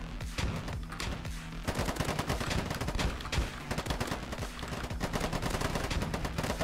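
Rapid gunfire in the online shooter Polygon on the Metro map, sustained automatic bursts and overlapping shots crackling continuously at moderate distance throughout.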